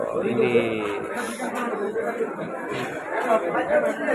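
Busy crowd chatter fills a packed restaurant where people are eating fish and fried dishes, with many overlapping voices close and far blending into a steady din throughout.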